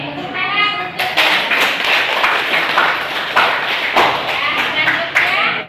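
A classroom of students applauds together, a dense, steady patter of many hands clapping close by for several seconds, with scattered young voices mixed in.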